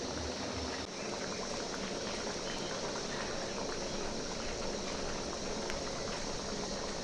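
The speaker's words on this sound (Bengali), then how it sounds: "দেখতেই পাচ্ছ টকবক করে ফুটছে ঝোলটা।" Egg curry gravy bubbling and boiling in a pan, a continuous soft, dense burble of popping bubbles with no talk.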